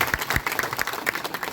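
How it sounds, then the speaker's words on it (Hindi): An audience claps loudly and close for a doctor during a training event, a brief burst of quick, uneven hand claps. "सबसे पहले हमारे डॉक्टर विक्रांत नरवाल सर के लिए एक जोरदार ताली हो जाए।"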